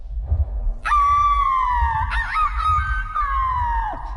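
A man imitates a howl with his voice, a loud sustained wavering howl lasting a few seconds that rises sharply, holds, then drops off at the end.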